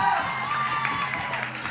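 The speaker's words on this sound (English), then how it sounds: "Give me a round of applause to Jennifer, 99 pounds." A crowd at a powerlifting championship applauds a lifter during the bench press, giving a steady wash of clapping with voices and cheers mixed through it.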